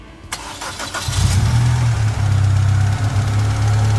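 A Toyota Corolla 1.8 engine with a new water pump cranks briefly with a whirring starter, catches after about a second and settles into a steady, close idle.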